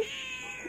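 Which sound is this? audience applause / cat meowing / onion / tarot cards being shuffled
cat meowing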